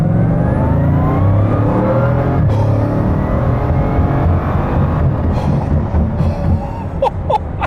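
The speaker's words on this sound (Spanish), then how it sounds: "voy a darle gas" A Bugatti Divo hypercar revs hard under acceleration, a loud, close engine roar that climbs in pitch and then gives way to rushing wind and a few sharp clicks near the end.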